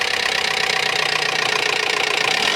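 Toyota RAV4 with a 1AZ engine idling with a knock, a loud, close, steady engine drone carrying a fast regular tapping rhythm throughout.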